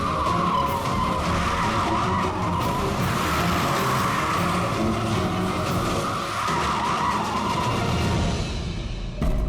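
Tires skid hard on a road in a sustained, loud screech lasting several seconds, with a steady high squeal over engine rumble and no talking.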